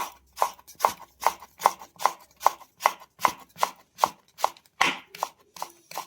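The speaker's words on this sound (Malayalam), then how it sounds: "ഇങ്ങനെ അരിഞ്ഞെടുക്കണം." A knife slices vegetables into thin julienne strips for a salad, making a steady, even rhythm of about fifteen crisp cuts against a cutting board. The cuts are close and clear, with no voices.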